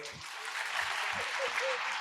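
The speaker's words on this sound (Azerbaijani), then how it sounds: "Bir alqışla bilək." Audience applause in a hall during a festival question-and-answer session, a dense steady patter of many hands lasting throughout, with a few low voices and calls mixed in underneath.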